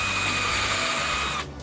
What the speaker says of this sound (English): I'm using a hand drill.